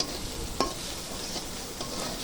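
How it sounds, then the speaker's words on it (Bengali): A ginger, garlic and cumin paste fries with chopped onion in hot oil, giving a continuous soft sizzle with one brief scrape of stirring near the start, fairly quiet and steady, with no one speaking. "ওই তেলে পেঁয়াজ কুচি দিয়ে দিলাম, দিয়ে ভালোভাবে পেস্টটা একটু ভেজে নেব"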